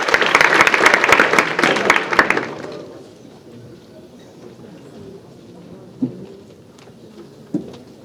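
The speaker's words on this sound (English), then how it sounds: "Let's give one more round of applause for everyone." Audience at a school Writers Week session applauding, a loud burst of clapping for about three seconds that stops abruptly, leaving a quiet room with a couple of soft thuds.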